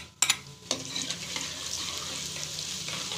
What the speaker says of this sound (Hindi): कुकिंग ऑयल हमारा गर्म हो चुका है। अब हम इसमें जो हमने लाल मिर्च और लहसुन और ज़ीरे जो पीसा था